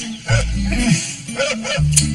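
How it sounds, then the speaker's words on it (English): A dog barks in a backyard, several short barks and yips in a rough irregular run at moderate distance, with faint background sound around them. "That damn dog. Yeah, it's been like that all day."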